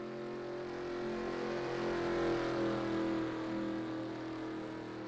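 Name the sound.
race car leaving pit stop in racing video game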